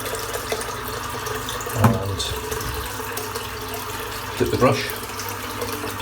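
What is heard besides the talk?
sink filling with water from the tap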